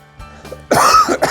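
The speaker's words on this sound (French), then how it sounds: "ça me fait tousser" A man coughs once sharply and close, with a faint throat-clearing sound just before and a brief second cough at the end.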